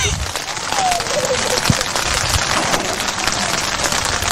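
Steady rain pours down during a high school baseball game, a dense constant hiss filling the whole stretch, loud and close with no break.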